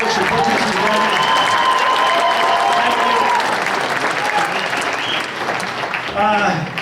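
A large rally crowd in Woodland Park, Colorado, applauds and cheers loudly and continuously, a dense clapping roar with voices mixed in that fades slightly toward the end.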